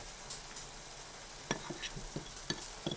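A shakshuka mixture with za'atar and other spices sizzles quietly in a skillet while a utensil stirs it, giving several distinct scraping and tapping strokes close by.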